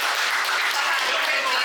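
Short burst of thick audience applause at a Spanish-language rap battle in the Pluma Guaraní event, continuous and fairly loud, with crowd voices mixed in.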